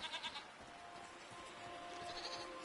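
Baby goats in the video game Season: A Letter to the Future bleat in a few quick, moderately close calls over a soft, continuous musical background.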